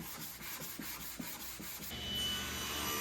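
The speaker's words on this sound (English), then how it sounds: "then sanded the whole box" Wooden tea box being sanded by hand after its mitered corners were filled with glue and sawdust, with rhythmic rubbing strokes for about two seconds that give way to a steadier broadband hiss.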